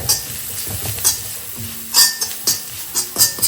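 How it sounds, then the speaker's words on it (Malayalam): Turmeric and Kashmiri chilli powder being stirred in a pan, a soft sizzle under repeated scraping and clinking strokes of a spoon against metal, close and fairly loud. "ഇനി നന്നായിട്ട് ഇളക്കി വയ്ക്കും"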